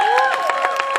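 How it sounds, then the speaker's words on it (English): Audience clapping at a theater show comes in quick, regular bursts, heard up close with a sustained whistle or vocal tone running over it for the brief moment. "can we have a round of applause for the family and loved ones of the actors and the directors of the show?"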